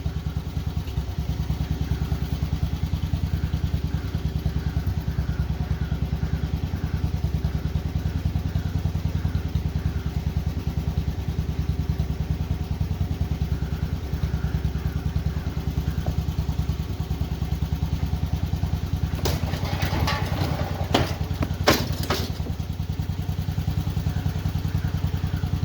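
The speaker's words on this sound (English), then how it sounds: "I'm going to try to get the tractor off of here, just kind of dump it slowly." A compact tractor's engine runs with a steady, close drone while it drives off a Harbor Freight folding utility trailer, with a burst of clattering thumps from the trailer near the end.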